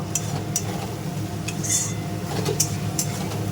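Coriander-leaf katla fish masala being stirred and sautéed in a pan, a metal spoon clinking and scraping against the cookware in scattered taps over a low, steady sizzle.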